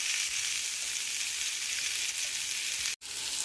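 Black beans and corn sautéing in a skillet, a bright, continuous hiss of sizzling oil close up with no talk, cut by a momentary gap near the end.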